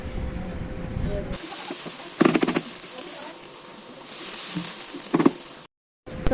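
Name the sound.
onions frying in oil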